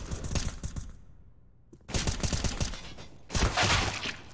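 Rapid bursts of rifle fire in a competitive Counter-Strike: Global Offensive match, loud volleys separated by a brief quiet gap, then another sharp burst.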